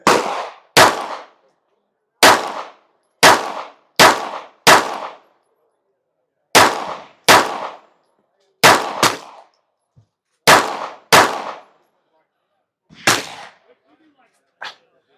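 A Kimber pistol fires at a shooting range, sharp loud reports in quick pairs and singles with short pauses between, about fourteen shots close to the listener.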